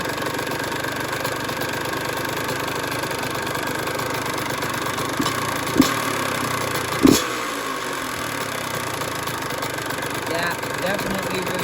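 A two-stroke dirt bike engine idles low and steady, a continuous close rumble with a couple of brief louder blips partway through.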